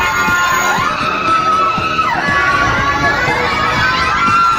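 Riders on an amusement park ride at Enchanted Kingdom scream loudly together, a dense, continuous wall of shrill shrieks and shouting that stays close and steady for the whole stretch.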